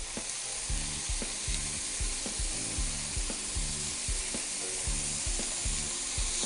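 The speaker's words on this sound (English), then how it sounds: "I'm going to flip my burgers over. Beautiful sear on the outside." Burgers sear in a hot pan right after being flipped, giving a loud, steady sizzle and crackle throughout, with a rhythmic low thumping beat running underneath.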